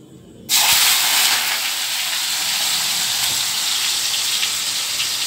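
Chopped onions hit hot oil already tempered with cumin seeds for a meat curry, setting off a sudden loud hiss that holds as a steady, close sizzle until the end.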